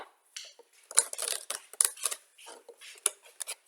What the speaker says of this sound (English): You can hear footsteps dragging around.